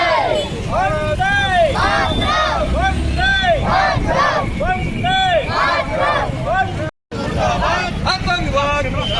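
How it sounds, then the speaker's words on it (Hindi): Protest crowd blocking the road at Thakur Para in Kawardha, many voices shouting and chanting together in rising, rhythmic slogans, loud and close, with traffic and general crowd babble underneath and a brief dropout near the end. "ये देख सकते हो पूरा भीड़ बने हुए हैं"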